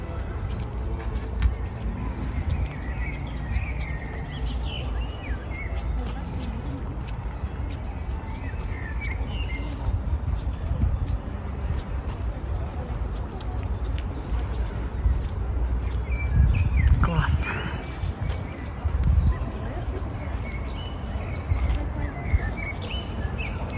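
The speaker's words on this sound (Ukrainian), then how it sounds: "Ви тільки послухайте цей спів пташок." Songbirds chirp and trill in a Kyiv city park in spring, scattered calls over a steady urban hum with faint traffic and distant voices.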